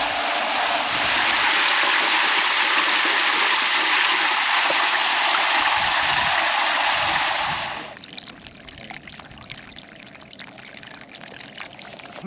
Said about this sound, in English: But we got us a little bilge pump and we are pumping it out of water.